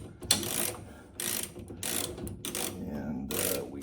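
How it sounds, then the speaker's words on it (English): A wrench works loose the bottom bolt and nut of a front shock absorber on a classic American car, with several bursts of rapid ratchet clicking close by and short pauses between them. "go ahead and remove this bottom bolt and nut"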